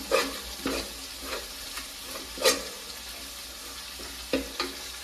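Chicken curry masala being stirred in a pan, spoon scraping in a few distinct bursts over a soft steady sizzle, close and moderately loud with no talking.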